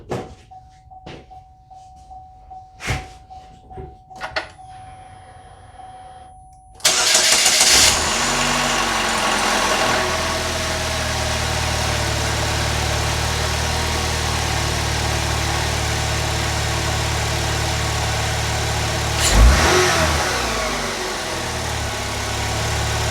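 A replacement 2.4L Ecotec four-cylinder in a Chevy Malibu cranks over after a few quiet clicks and catches around seven seconds in, then settles into a steady, loud idle that runs to the end.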